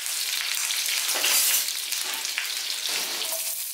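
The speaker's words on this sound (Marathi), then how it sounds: "तेल गरम होताच कढीपत्ता आणि हिरवी मिरचीची फोडणी देऊया फोडणी चांगली तडतडली पाहिजे" Curry leaves and green chilies crackle and sizzle in hot oil for a tempering, a close, steady, dense frying hiss with scattered pops and no talking.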